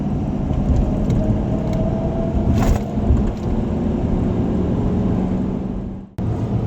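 A 2018 Ford F-250 diesel pickup towing a trailer accelerates hard, a steady loud low rumble of engine and road noise droning throughout, briefly cutting out near the end.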